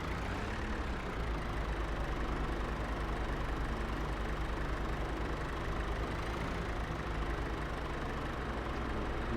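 A telehandler engine rumbles steadily in a farming game, a loud, unbroken low drone with no change in rhythm from start to finish.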